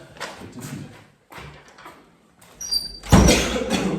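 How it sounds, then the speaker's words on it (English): An interior door in a guest bedroom being shut, with a few soft shuffles and knocks first and then a louder thud as it closes, followed by brief rattle. "So I'm going to shut this door"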